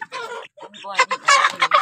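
Chickens at a poultry farm cluck in quick, uneven bursts of short squawking calls, close by, with brief gaps between them and a few overlapping birds.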